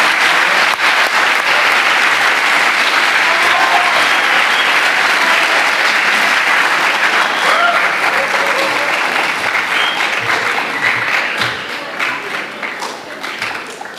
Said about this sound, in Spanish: Recibamos con un fuerte aplauso al doctor Iván Gómez